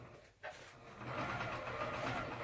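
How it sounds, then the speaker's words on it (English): A sewing machine back stitches a fabric lining for an oven mitt, its steady motor whir broken by a brief pause before running again continuously. "Make sure you back stitch"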